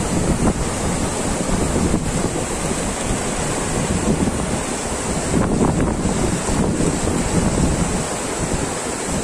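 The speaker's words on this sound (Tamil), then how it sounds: "தண்ணீரானது வேகமாக ஆர்ப்பரித்து சென்று கொண்டிருக்கிறது" Fast water rushes and churns in a Kolli Hills channel that branches toward a lake during heavy rain. The roar is dense, continuous and evenly loud throughout, with no voices.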